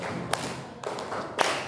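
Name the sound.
class doing the 'tepuk champion' clap chant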